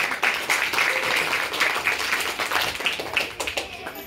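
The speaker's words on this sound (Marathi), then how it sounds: "एकदा जोरदार टाळ्या होऊन जाऊ द्या" Audience clapping for Ingole sir and madam, the school's founders, at a Ramai birth anniversary celebration in a Buddhist school: steady, dense applause from a crowd filling the whole stretch at moderate loudness.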